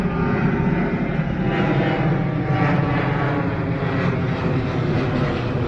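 Airplane engine roaring steadily near an airport as a plane takes off or lands, a loud continuous drone heard alone without speech.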